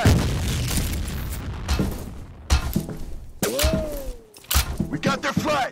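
A grenade goes off in the multiplayer shooter F.E.A.R. Combat, giving heavy booming blasts with shattering debris among gunfire and game effects, and players shout and talk over the chaos.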